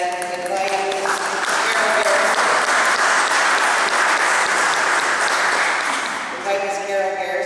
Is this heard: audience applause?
yes